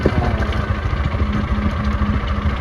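A car engine with a fault making a strange noise, running with a low throbbing rumble and a steady pulsing rhythm, close and loud, alone without speech.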